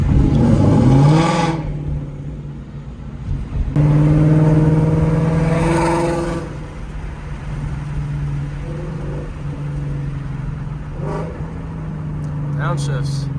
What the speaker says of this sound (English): I'm gonna try to get some burble pops when I make a turn here.